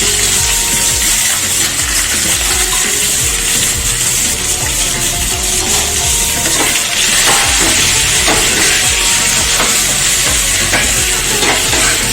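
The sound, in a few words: onion, panch phoron, curry leaves and red chilies frying in oil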